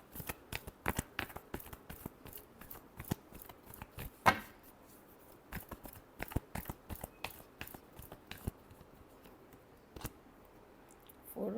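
Tarot cards are shuffled over and over in a quick, uneven patter of crisp flicks and riffles, close and quiet, with no voices.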